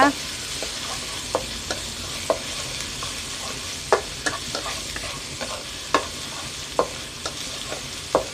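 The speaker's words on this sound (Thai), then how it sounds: "ผัดให้หอมนะคะ" Chili and garlic stir-fry in a hot wok with steady sizzling, irregular pops and scraping stir clatters every second or so, close and fairly loud.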